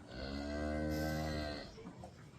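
A younger cow on a farm lets out one long, loud moo close by, a harmonic-rich bellow lasting over a second before trailing off into quieter farmyard noise.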